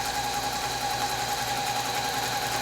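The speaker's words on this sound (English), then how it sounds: "And now I'm going to travel stitch against this shape, carefully stitching right on top of it." A sewing machine running steadily while free-motion quilting a travel stitch, a continuous close whirring hum with no pauses and no talking.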